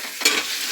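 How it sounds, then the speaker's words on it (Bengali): Dal stir-fried in a pan: a short sizzling scrape with a brief burst of stirring noise near the middle, fairly close and alone, no voices. "এবার কষিয়ে নিই ডালটা।"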